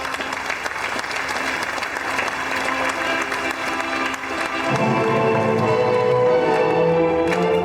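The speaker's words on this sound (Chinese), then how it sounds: "让我们掌声有请新郎新娘" A crowd of guests applauds steadily to welcome the bride and groom at a wedding, and the clapping keeps going as music swells in partway through.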